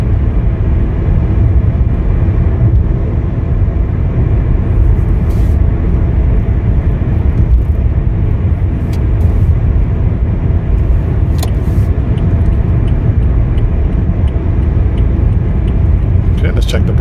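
Steady road and engine drone inside a 2016 Toyota Corolla L cruising at about 55 mph, a continuous low rumble with little variation throughout.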